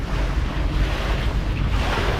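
Loud, steady roar of ocean surf at a beach in Vung Tau, waves washing in under heavy wind buffeting the microphone, continuous with no voices.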